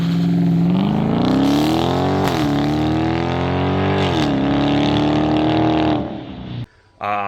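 A Dodge Charger's exhaust revs hard and close, its engine note climbing and dropping over several throttle blips, sustained and loud before cutting out near the end.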